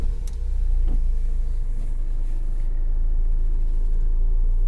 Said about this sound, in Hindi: तो हम गाड़ी स्टार्ट करते हैं,